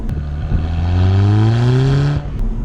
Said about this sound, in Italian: La quarta cosa che mi piace di questa Audi TT è il sound